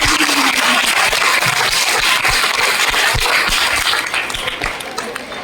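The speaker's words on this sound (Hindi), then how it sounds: "एक ताली आपके गुरुजनों के लिए," A school audience at a government school Haryanvi folk dance workshop claps for their teachers, a loud dense burst of many hands that stays full before thinning and softening near the end.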